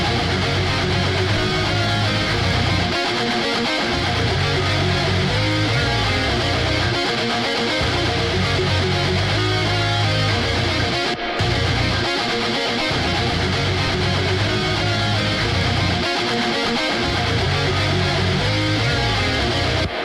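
A dense orchestral string bus playing without mid-side processing, thick and continuous with sustained bowed layers and rhythmic low pulses under a loud, full mix, with one brief dropout near the middle.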